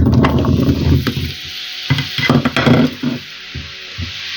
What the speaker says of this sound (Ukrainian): І так висипаємо смажити гарбуз.